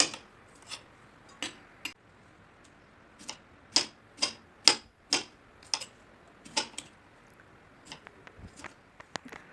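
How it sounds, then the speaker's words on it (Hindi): Chopped vegetables tossed in a bowl make a series of sharp clicks and taps as the spoon knocks the sides, each one separate with short pauses between, fairly quiet. "कटी हुई वेजिटेबल्स को एक बाउल में रखेंगे और अच्छी तरह से मिक्स करेंगे।"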